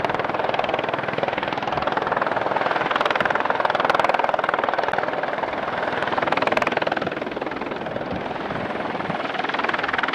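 A toy police helicopter gives a continuous whirring drone with rapid rotor chop, steady and fairly loud, with no voices.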